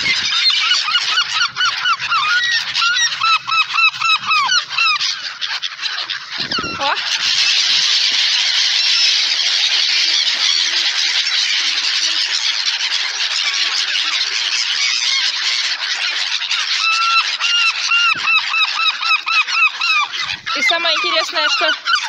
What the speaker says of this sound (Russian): Вот я решила чаек покормить. Вот послушайте, что творится